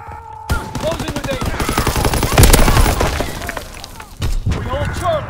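Rapid machine gun bursts and shots crackle in a Call of Duty WWII multiplayer match, loud and close, building to a dense peak midway, with game voice callouts heard over the firing.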